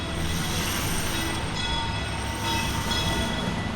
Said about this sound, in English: we're walking up just as the train's arriving.